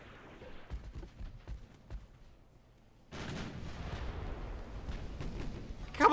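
Naval gunfire in the warship battle game Ultimate Admiral: Dreadnoughts booms in a series of dull, rumbling shots, sparse and quieter at first, then a denser continuous barrage of distant cannon thuds building to a louder blast at the end.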